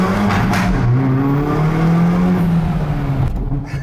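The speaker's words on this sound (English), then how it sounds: "I've got the exhaust in its sportiest setting, tunnel ahead of me, window down." A Hyundai i30 N Performance hot hatch's 2-litre turbo exhaust, in its sportiest setting, roars and revs loudly, its pitch climbing and falling, echoing inside a tunnel.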